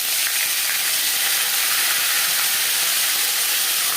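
Ginger and green chilli paste frying in hot oil after whole spices are tempered, for a vegetarian paneer muri ghonto with Gobindobhog rice. A steady, close, dense sizzle and hiss runs unbroken throughout, with no voices.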